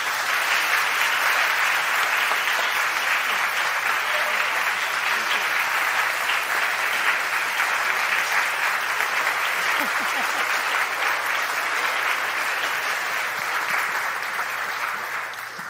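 Sustained audience applause welcoming Ayaan Hirsi Ali on stage at a lecture event, a dense, steady clapping from a large crowd that continues evenly for the whole stretch and tapers slightly at the end.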